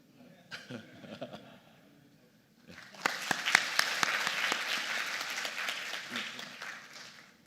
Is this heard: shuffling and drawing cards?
no